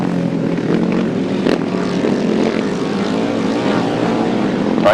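Grasstrack racing motorcycles, including an old Westlake V-twin, roar past together at a championship meeting, a steady loud engine drone with rising and falling harmonics and no pause across the whole stretch.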